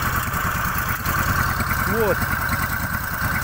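A homemade snowmobile engine fitted with a boat carburetor idles close by with a steady, even low chugging drone, while someone says a brief word over it.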